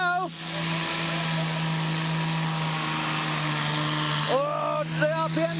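A pulling tractor engine at a Friday night tractor pull runs at high revs, a loud sustained roar with a tonal whine, while an announcer's voice comes in briefly at the start and end.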